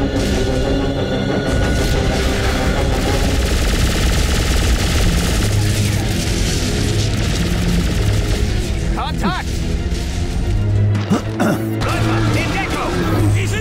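Heavy automatic gunfire rattles without a break in the video game The Bureau: XCOM Declassified, a dense, loud barrage of rapid shots over mechanical clatter and impacts. Game voices come and go beneath the noise.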